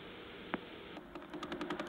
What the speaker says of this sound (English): Have a listen to the pulsar BO329 in Perseus